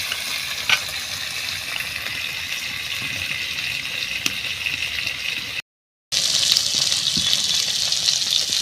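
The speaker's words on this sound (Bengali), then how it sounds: "মাছগুলো আমি এরকম হালকা হালকাভাবে ভেজে নিয়েছি" Small local pond fish fry lightly in hot oil, giving a steady close sizzle and crackle throughout with a few sharper pops and a brief break partway through.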